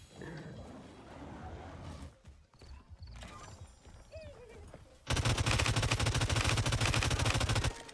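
A legendary SMG in the Realm Royale battle royale game fires a loud, sustained automatic burst lasting nearly three seconds, coming after quieter game noise and players' chatter.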